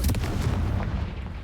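A Confringo blasting spell detonates in the video game Hogwarts Legacy, a single heavy boom with a rumbling tail, loud and close, with no talk over it.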